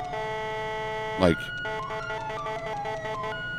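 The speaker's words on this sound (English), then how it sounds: "that is my favorite part of the Siren, is that loud bullhorn" Whelen Epsilon police siren in the GTA V LSPDFR game mod: a short, loud descending bullhorn blast followed by steady electronic siren tones, with a brief spoken word over it.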